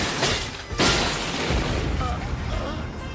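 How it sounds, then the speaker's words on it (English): Automatic siege weapon in an anime battle scene, letting off a rapid run of booming shots with a sharp blast near the start, loud and continuous under talking voices. "It's an automatic fire siege weapon."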